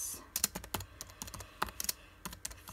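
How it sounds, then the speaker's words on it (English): Fast, irregular clicking of keys on a computer keyboard, quiet and close, with short bursts and brief pauses, with no voices. "Excuse my spelling and bad typing."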